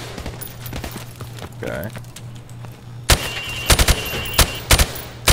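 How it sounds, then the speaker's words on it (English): Rifle fire in Call of Duty Modern Warfare Remastered, shooting at range targets from the hip: after a few seconds of low ambient hum, a rapid string of loud, sharp shots rings out near and close together, with a brief spoken word. "Now, shoot at the targets while firing from the hip."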